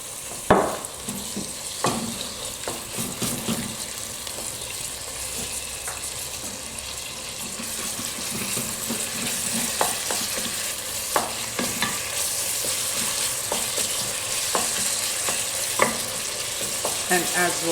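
Onion and minced beef sizzle steadily in a hot pan, with intermittent scraping and clinking of a utensil stirring the mixture.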